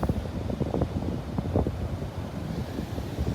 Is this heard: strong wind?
yes